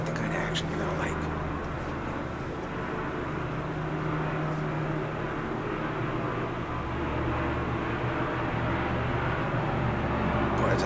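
A low propeller airplane drones steadily overhead, heard from a distance with no voices, a dull continuous rumble that holds level throughout.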